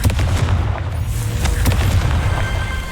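Confringo fire spell blast in Hogwarts Legacy: a loud, close burst of booming, crackling fire with a couple of sharp cracks over a sustained low rumble, heard alone.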